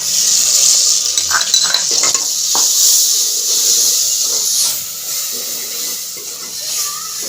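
Onions frying and browning in a pan give a constant loud sizzle and hiss, with scattered clinks and stirring scrapes on top and a slight drop in intensity partway through.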